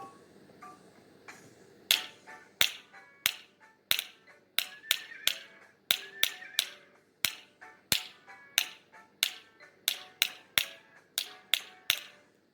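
Kindergarten children play spoons to music, striking them in a steady rhythmic pattern of sharp clicking hits with faint ringing and soft musical tones underneath.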